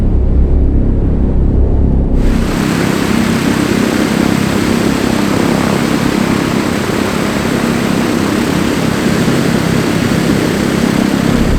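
The propeller engines of a Douglas DC-6 turn during a ground run, a loud, steady, close roar that suddenly jumps to a broader, brighter pitch about two seconds in and then holds.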